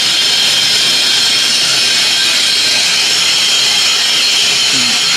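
Steady loud hiss and whine of a metal lathe turning a steel steam speeder wheel at 62 RPM, a continuous broadband machining roar holding constant throughout, with no voices.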